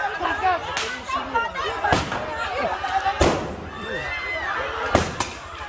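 Firecrackers thrown during a street clash between rival groups and police go off in several sharp cracks and bangs, roughly one a second, over a noisy crowd with shouting voices.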